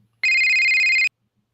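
A telephone rings once in a single loud, steady electronic burst lasting just under a second, with silence before and after.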